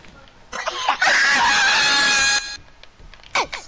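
A young man screams loudly into a headset microphone during a FIFA gaming session, one long, harsh, distorted shriek that clips the mic, with brief shouts and squeals before and after.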